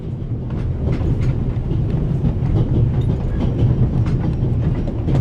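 A train in the video game The Raven Remastered rumbles along steadily with a deep, continuous roll and a faint rhythmic clickety-clack of wheels on rails, loud and close, with no voices.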